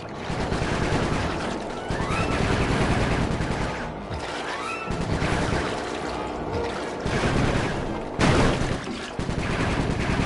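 Rapid bursts of gunfire from the Sly Cooper video game, fired by Bentley against the Blue Vipers, rattle continuously and loudly for the whole stretch with brief pauses, no talking over them.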